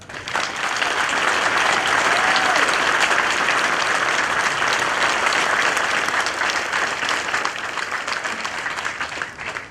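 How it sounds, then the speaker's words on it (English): Dense, loud audience applause at a military ceremony honoring soldiers, a sustained wash of many hands clapping that holds steady throughout and eases slightly at the end. "Please join me in giving these great Americans a well-deserved round of applause."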